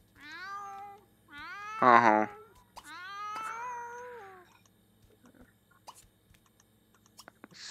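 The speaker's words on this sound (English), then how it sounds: "The cat is just whining." A cat whines and meows in The Sims 2 video game, with several drawn-out rising and falling cries close by, followed by quieter clicks and a brief exclamation.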